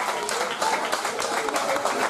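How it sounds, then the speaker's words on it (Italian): Crowd applause at an outdoor summer event with a 1960s fashion show, a dense, steady clatter of many hands clapping for a couple of seconds, moderately loud with no pauses. "io chiederei un grandissimo applauso per Daniela Melcore"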